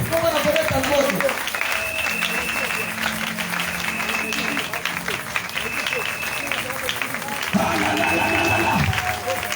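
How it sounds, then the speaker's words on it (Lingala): Church congregation at an Easter service cheering and applauding, a sustained crowd wash of clapping and voices that stays loud throughout, with a swell near the end. "Continuez à acclamer."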